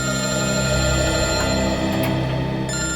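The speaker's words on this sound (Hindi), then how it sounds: "सर, टूर कंपनी वालों का फोन।" Telephone ringing in a detective drama scene, a steady electronic ring that holds loud and unbroken throughout, with no talk.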